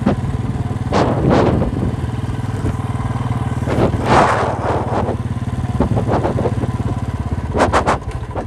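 A Royal Enfield Bullet motorcycle with slightly faulty brakes thumps along at a steady, loud, low rhythmic beat while being ridden, with brief voices and whooshing bursts over the engine.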